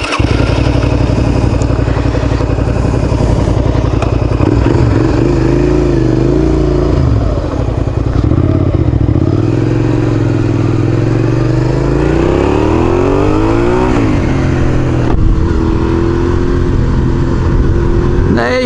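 A Suzuki SV650N naked motorcycle engine drones loudly while riding, with steady wind rush and rising and falling revs through gear changes, and a rider talking at times over it.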